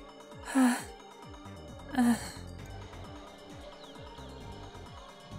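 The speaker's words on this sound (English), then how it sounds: "From the sound of her breathing, she must be at her limit." An exhausted girl in the Steins;Gate video game gasps for breath, two sharp loud inhalations about a second apart over quiet background music.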